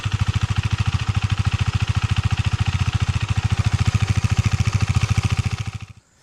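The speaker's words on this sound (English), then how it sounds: "that's the exhaust sound, and as you guys can hear, it is when you rev the bike" A 2022 KTM 390 Duke's exhaust throbs as the bike is revved in a fast, steady pulsing rhythm, loud and close, then cuts off abruptly near the end.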